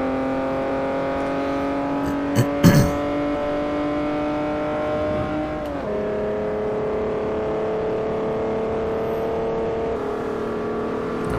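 A race car engine in Forza Motorsport 4 holds a steady, buzzing drone close up, with a brief sharp knock early on and a slight drop in pitch midway, and no talk.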